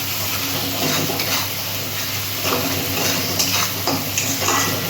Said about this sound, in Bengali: মশলা কষালেই তার টেস্ট আছে, যার জন্য আমি মশলাটা কষিয়ে দিচ্ছি।